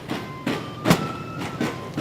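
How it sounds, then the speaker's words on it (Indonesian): A wood-fired steam train rolls along rails in Solo, with a steady clickety-clack of wheels over track joints recurring in an even rhythm, heard from on board at moderate loudness with no talk. "ini pertama kali saya naik kereta api, Pak, yang menggunakan bahan bakar daripada steam, daripada kayu"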